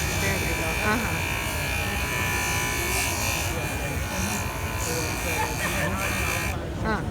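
A JOOLTOOL polishing machine buffs a watch at the Inhorgenta trade show, giving a steady, close electric buzzing whine that runs without a break and drops out near the end.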